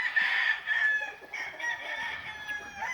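A purebred Bennett gray gamefowl rooster, about a year old, crows loudly and close in a long drawn-out call, with clucking from other birds on a gamefowl breeding yard.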